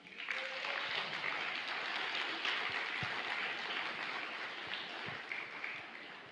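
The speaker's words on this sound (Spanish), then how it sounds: "¿Por qué no le da un aplauso?" A congregation at a church service applauds the pastor's wife, a soft, steady patter of many hands that sounds distant and faint throughout, with no talk over it.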